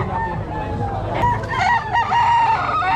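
Rooster crowing at a busy chicken market in Lemery, Batangas, a drawn-out crow rising over a crowded din of other fowl and clucking, with people talking nearby.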